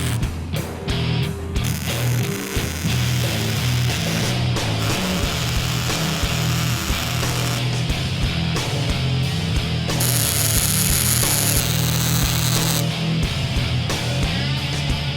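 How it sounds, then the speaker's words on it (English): An angle grinder bevels the edges of steel frame rails for a 1964 Mercury Comet, loud continuous grinding with shifting pitch and brief pauses, no talking. "He's beveling the edges with a grinder to give the welds more area to fill."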